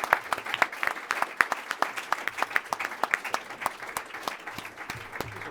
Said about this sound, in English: please join me in a round of applause for the panel